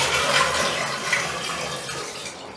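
Water drains from a shower pan after a flood test, a close, steady rushing gurgle that continues for a couple of seconds.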